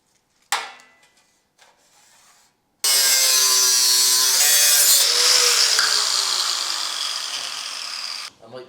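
A saw cuts through wood during a Ford Sierra drift car build: a sustained, close, rasping cut of several seconds after a few short knocks and scrapes, fading slightly toward the end.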